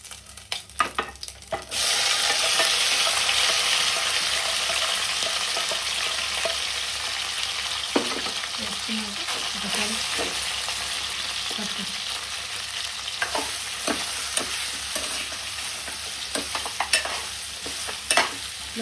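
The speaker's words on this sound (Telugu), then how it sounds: "ఇలా కలుపుకోవాలి" Chicken curry with ginger and garlic paste being stirred in a hot pan, a steady sizzle filling most of the clip with scraping stirs and utensil knocks scattered through it; no one talks.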